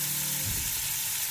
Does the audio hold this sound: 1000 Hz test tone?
no